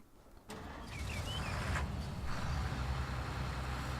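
Combine harvester engine starting in the Farming Simulator 19 video game, a sudden crank catching into a steady low mechanical idle rumble that continues to the end, with no talking.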